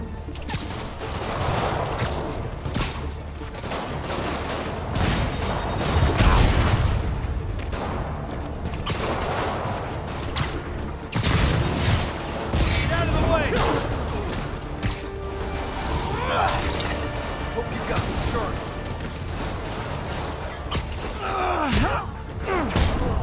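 Rockets launch and explode in a Spider-Man video game, with repeated booms, whooshes and crashing blasts piled into a dense, continuous barrage of game action.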